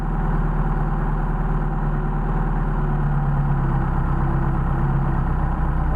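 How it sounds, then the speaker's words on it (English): A Mercedes 190SL engine on Solex 44PHH carburetors idles steadily and close, a loud, even low rumble with a smooth unbroken pulse and no voices. "See, now we got decent idle because we're supposed to idle on the first barrel of each carburetor, not the second barrel"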